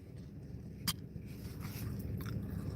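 Someone chews low-quality gristle close up, making faint, soft mouth noises with one sharper crunchy bite near the start, and nobody talks.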